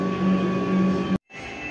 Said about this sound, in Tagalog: Printer head clean.